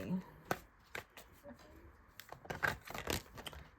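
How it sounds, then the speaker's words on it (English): Tarot cards are shuffled and drawn during a card reading, giving scattered close, crisp flicks and soft slides of card stock with quiet pauses between them. "Let's draw some more cards for pile 3."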